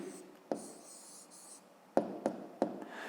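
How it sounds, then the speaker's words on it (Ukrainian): Handwriting strokes of a pen or pencil on paper while writing down a fifth-grade math answer, soft scratching broken by a few sharper taps, quiet and close with no talking. "Пишемо відповідь."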